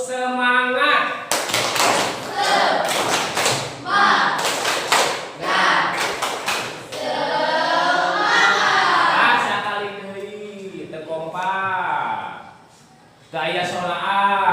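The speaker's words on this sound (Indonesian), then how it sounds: "Is breakingnya tepuk semangat." Classroom of students doing rhythmic spirit clapping, repeated bursts of claps in a patterned beat mixed with voices chanting and talking, fairly loud and close throughout.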